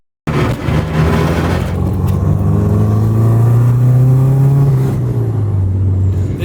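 A diesel truck engine revs loud and close, a heavy, continuous roar whose pitch climbs steadily and then holds high for several seconds, with nothing else heard over it.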